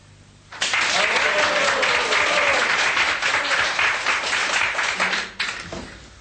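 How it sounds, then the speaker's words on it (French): An audience applauds for about five seconds in a loud, dense burst of clapping that breaks off near the end. A voice can be heard under the clapping. "Je ne mérite pas ces applaudissements"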